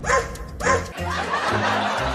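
A cartoon dog gives two quick barks close up, and then a voice starts speaking over a steady background.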